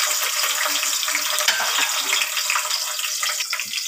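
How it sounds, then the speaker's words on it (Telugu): Onions fry in hot oil with a bay leaf for a Telugu chicken curry, making a bright, steady crackling sizzle with light stirring, close and loud. "ఇప్పుడు వేడి అయింది కదంటే అది కొంచెం వేసేసుకుని ఆనియన్స్ వేసుకుంటాను."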